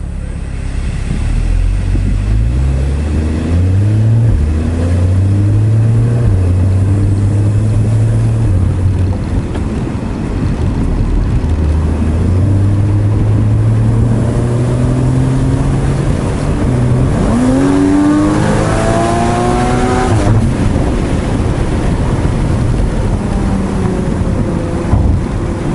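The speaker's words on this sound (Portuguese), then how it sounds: "GTS é a versão mais potente do Boxster, claro. Ele tem o motor flat 6, né?" A Porsche Boxster GTS with a flat-six engine revs up through the gears while driving, harmonics rising and falling in steady sweeps, loud and close throughout with no talk over it.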